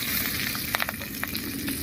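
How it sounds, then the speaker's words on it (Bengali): Two dried red chilies, a few garlic cloves and two hot green chilies sizzle in hot oil, a close steady crackle with small sharp pops scattered through. "তেল গরম হয়ে গেছে, এবারে তেলের মধ্যে দেবো 2টো শুকনো লঙ্কা, কয়েক কোয়া রসুন, আর দিয়ে দিচ্ছি 2টো ঝাল কাঁচা লঙ্কা।"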